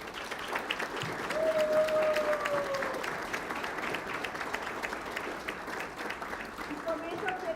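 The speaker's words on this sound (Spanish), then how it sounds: "vamos a darnos un aplauso y darles un aplauso también a ellos" An audience at a high school rose ceremony breaks into sustained applause, a steady crowd of clapping at moderate distance, with a voice briefly sounding over it.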